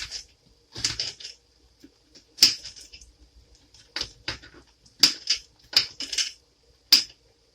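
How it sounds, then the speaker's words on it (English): A knife dicing a white onion on a cutting board, with irregular sharp chopping taps in short bursts, close and fairly loud, separated by brief pauses. "I just started dicing a little bit of the onions"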